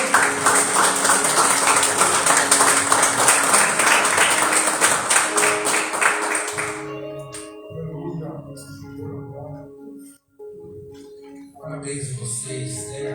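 Church congregation clapping in praise during a Sunday evangelistic service, dense loud applause for about seven seconds that then drops away, giving way to quieter music and a voice.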